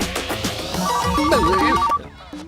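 Phone ringtone in a Telugu action movie, a warbling electronic melody with a steady tone, loud over busy background sound, cutting off after about two seconds.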